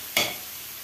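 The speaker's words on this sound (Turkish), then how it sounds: "Şöyle bir kaşık mantarlarımızı karıştıralım." Mushrooms and tomatoes frying in a pan, stirred with a spoon: a single quick scrape of the spoon over a steady background sizzle.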